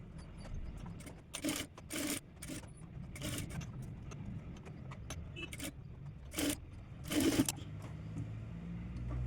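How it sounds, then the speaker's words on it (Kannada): A sewing machine stitches a diamond-neck blouse in a series of short, uneven bursts with scraping and rustling of fabric between them, fairly quiet and close. "ಈ ರೀತಿ ಇದನ್ನು ಕೂಡ ಹಾಗೆ ಸ್ಟಿಚ್ ಮಾಡ್ಕೋಬೇಕು"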